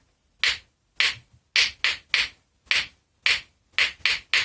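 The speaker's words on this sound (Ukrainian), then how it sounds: "Ці горішки можуть бути музичними інструментами, якщо ними ритмично постукати ось так." Two walnuts tapped together in a rhythmic pattern, about ten sharp, dry clicks in groups, close and clear with silence between them and no talking.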